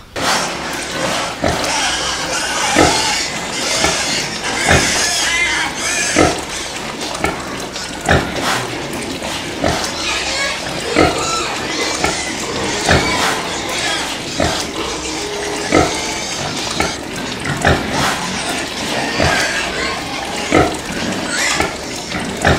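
Pigs in a pen on a pig farm grunt and snuffle steadily, close by, over a continuous wash of running, splashing water with sharp knocks and clatters throughout.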